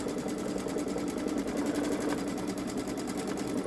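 A Babylock Solaris Vision sewing machine stitches a quilt edge to edge with a steady, fast mechanical whir and rapid needle pulses running continuously and close up.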